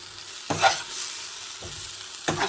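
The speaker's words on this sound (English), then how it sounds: "I'm gonna give it a good stir" A spoon stirs steaming vegetables and potatoes in a pot in three distinct scraping strokes over a steady background sizzle.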